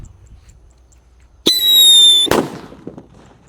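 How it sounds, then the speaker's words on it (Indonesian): A Happy Power 3 firework set off inside a hole in the ground gives a sharp pop, then a bright, steady whistle lasting under a second, and ends in a loud bang followed by crackling debris. "yang akan kita nyalakan di sini ada Happy Power 3 guys di lubang tanah ini"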